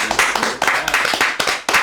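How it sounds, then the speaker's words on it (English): A round of applause at a podcast session, a brief burst of clapping hands from a small group in a room, repeated sharp claps blending with a little chatter. "let's have a round of applause for everything he just said about cannabis"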